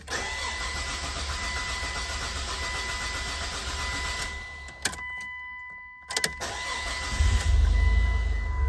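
A Chrysler Sebring cranks over after a fuel pump cartridge replacement: the fuel pump primes with a steady hum, a brief pause follows, then the engine catches with a loud low rumble near the end.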